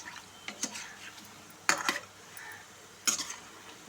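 Coconut mixture for coconut laddus being lightly fried and stirred in a pan, heard as a few sharp scrapes and clinks of a utensil against the pan at irregular intervals over a quiet background.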